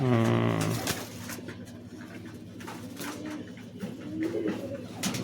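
Pigeons, including Giribaz and Madrasi breeds, coo in low throaty rolls at close range, with a loud coo at the start and softer ones after, among faint rustling and background murmur.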